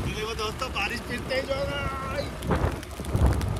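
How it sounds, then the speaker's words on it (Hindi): Steady heavy rain hisses in the background on a road toward Atal Tunnel while someone talks over it, with a few louder low rumbles and splashes near the end. "दोस्तों बारिश फिर तेज हो गई,"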